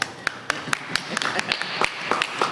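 Scattered clapping from a small group at a Senate Democratic leaders' news briefing, distinct individual claps at an uneven rhythm, close and moderately loud in a quiet room.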